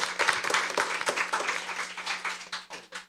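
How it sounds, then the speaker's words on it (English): A crowd applauds steadily for about three seconds after a school performance at a junior science quiz, dense clapping with a few sharper claps standing out. "please give them a round of applause"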